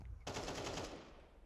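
A fast burst of automatic gunfire in Counter-Strike on Dust2 rattles off rapidly for about half a second and then fades into quiet game ambience.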